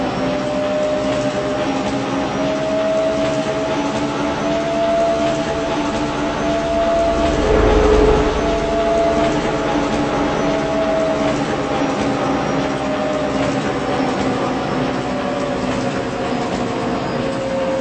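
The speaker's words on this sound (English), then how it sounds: "This train terminates here." An airport transit train rumbles along with a steady hum and faint whining tones, a low thump swelling briefly midway, heard from inside the car.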